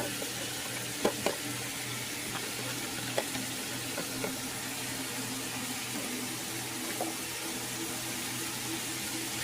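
Green peppers and onions fry in a pot for hearty chili, a steady close sizzle with a few soft clinks and stirs on top, no voices.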